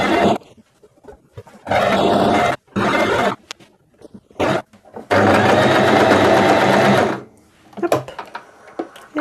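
Sewing machine stitching a reusable fabric bulk-food bag, with loud close bursts of fast mechanical whirring separated by short pauses, the longest run lasting about two seconds.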